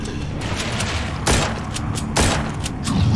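Gunfire in The Walking Zombies 2, coming from a zombie bunker: two heavy bursts of shots at about 1.3 and 2.2 seconds, with a third starting near the end, over steady, busy game noise.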